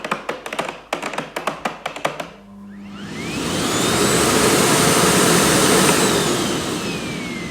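A Miele Blizzard vacuum cleaner is switched on after a run of sharp taps and clicks, then rises to a loud, steady, close whooshing roar with a high whine that holds for several seconds.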